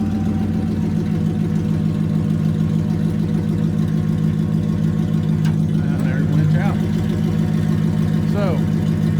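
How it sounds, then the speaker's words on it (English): A wrecker tow truck's winch reels in its cable over a steady, loud drone of the running truck engine and hydraulics, with brief faint voices partway through. "And here's winch in."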